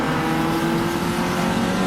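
Super Compacto race cars roar around the circuit in a tuner production race, a loud, steady engine drone with layered revving from several cars close by.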